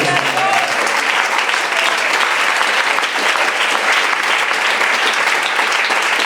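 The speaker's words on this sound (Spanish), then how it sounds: "Me quiero dar ese aplauso al Señor." A church congregation claps steadily and densely during a baptism service, a loud continuous wash of applause lasting several seconds with no break.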